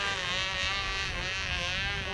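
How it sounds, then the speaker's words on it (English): A small model airplane engine on a Cloud Ranger aircraft idles steadily, a close, loud, buzzing drone with a rough harmonic whine that holds constant throughout without pause. "So the throttle response is not great. Well, you better anticipate you need throttle. So that's an idle."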